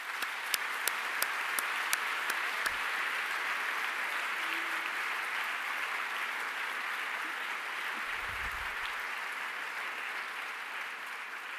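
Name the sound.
audience applause at a graduation ceremony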